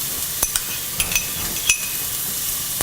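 Onion, ginger and garlic sizzling in two tablespoons of hot oil over medium flame, a steady close hiss with a few sharp spatula clinks against the pan.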